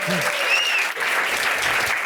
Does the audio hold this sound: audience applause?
yes